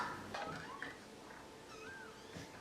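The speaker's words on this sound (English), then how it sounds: "Look at all those beautiful cats." Cats in a film scene give several short, faint meows at scattered moments over a quiet background.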